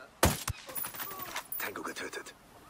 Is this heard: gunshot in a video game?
yes